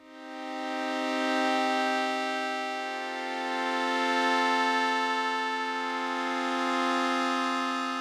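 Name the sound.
synthesizer oscillator with sixteen unison voices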